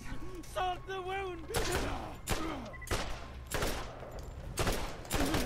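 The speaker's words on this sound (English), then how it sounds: "Shoot one bullet at a time, you're more likely to get that 3-shot kill that you need." A combat rifle fired in short bursts in Borderlands: several sharp, loud volleys of rapid shots land at uneven intervals, with brief vocal sounds from in-game characters at the start.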